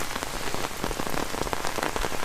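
Steady light rain patters on a surface, a dense hiss of small drops with no voices.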